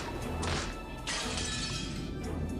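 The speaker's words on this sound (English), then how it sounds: "The glass smashed with a violent sound." An antique chair is smashed against window glass, two loud crashing impacts with shattering over a dense, noisy background.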